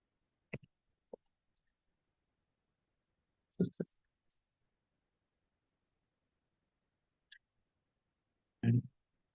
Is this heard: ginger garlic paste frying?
no